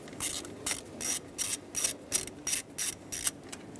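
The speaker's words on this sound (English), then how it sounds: "And now 2 10mm bolts is what hold on this ignition coil. Remove them both." A hand ratchet clicks in repeated short bursts while loosening the two 10 mm bolts holding an ignition coil on a 2011-2018 Ram 2500 6.4L V8, close and fairly quiet, with no talking.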